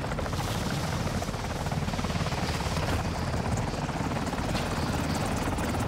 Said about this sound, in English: we got to wait for this obnoxiously loud vehicle to land.